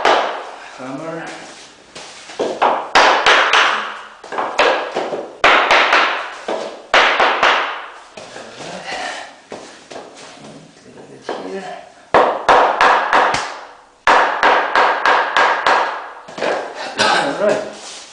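Sharp hammer taps on laminate floor boards being knocked together during an amateur installation, coming in rapid irregular bursts of loud knocks, close by, with a voice talking between them.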